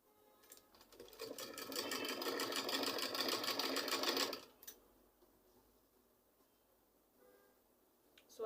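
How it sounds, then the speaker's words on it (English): A sewing machine runs in one steady, rapid burst of about four seconds, stitching along foam padding on a pleated turban cap, then stops, leaving faint handling noises in a quiet room. "I'm stitching very close to the foam"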